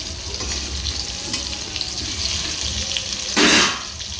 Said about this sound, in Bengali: দিয়ে মাংসের আলুগুলো ভাজার জন্য দিয়ে দিলাম